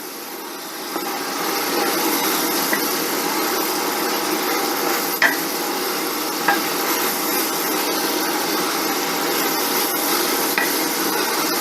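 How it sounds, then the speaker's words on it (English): Garlic paste being stirred into a creamy shells and beef dish, a continuous close scraping and swishing in the pot with a few sharp knocks of the utensil against the side. "Let's stir that in."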